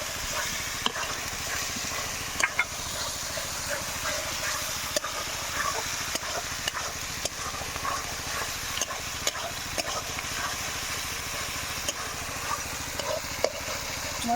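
Spice paste for a thin rohu fish and eggplant curry fries in a pan with turmeric and salt, giving a steady close sizzle and hiss with occasional stirring scrapes and clicks, and no voices.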